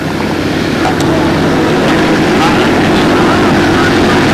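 A four-stroke model airplane engine drones loudly and steadily during its takeoff roll at a windy 1997 national model aviation contest, with constant wind and engine noise throughout.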